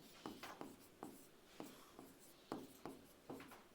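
Handwriting during a lesson, a series of distinct scratchy strokes coming at a steady pace, faint and close, with no talk over it.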